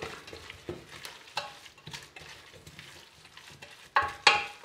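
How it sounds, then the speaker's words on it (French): A spoon stirs vegetables with fresh mint, garlic and olives in a pan, giving close, repeated scraping strokes over a soft sizzle, with two louder clacks near the end. "On mélange un petit peu."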